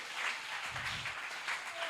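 A church congregation applauds, a steady, even wash of many hands clapping together, fairly faint and heard from a distance, with no voices over it.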